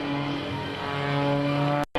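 An aerobatic propeller plane drones steadily as it climbs at an airshow, a loud, even engine hum heard from nearby that cuts off abruptly at the end.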